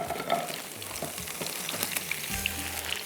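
Chicken kofta sizzles lightly in oil in a pan, a steady faint crackling fry with small pops and the occasional soft clink, alone without talk.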